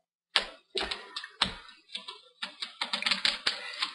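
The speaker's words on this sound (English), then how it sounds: "we use our X-Acto knife to lift up the adhesive tape, being very careful not to damage the" Close, dry ticking and tapping as an X-Acto knife works under adhesive tape on a connector inside an Acer Aspire One 722 netbook, a quiet burst of separate clicks that grows busier toward the end, with no voices.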